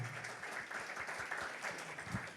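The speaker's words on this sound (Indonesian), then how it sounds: "sorak-soranya dulu yang kenceng buat Tuhan kita yang baik" A church congregation at an Indonesian worship service in Kelapa Gading claps and cheers together, a soft, steady wash of applause that stays continuous, sounding somewhat distant.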